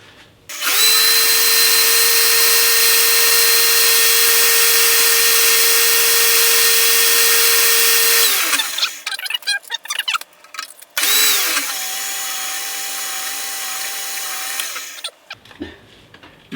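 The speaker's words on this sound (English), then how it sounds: "So the next thing is to drill the holes," A power drill bores 2.5 mm holes through a thin metal strip about 1 mm thick: a loud, steady whine holds for about eight seconds, breaks into scraping and rattling, then a second shorter whine runs at a lower pitch before cutting off.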